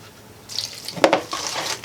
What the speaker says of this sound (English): Adding a little bit more water to my bowl